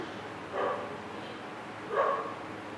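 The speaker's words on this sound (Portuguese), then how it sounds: "Vai ter cachorro latindo, barulho de ventilador" Two muffled dog barks, spaced apart, sound faintly from a distance over a steady background fan hum.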